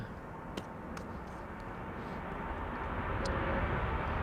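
American Airlines jet leaving Amsterdam Schiphol for Philadelphia: a moderate, distant engine roar that slowly swells louder, with a few faint clicks and no talk.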